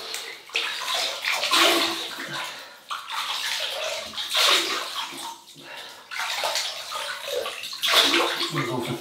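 Water runs and splashes in repeated bursts while a face is wetted before shaving, three loud, close surges of splashing and sloshing separated by short pauses.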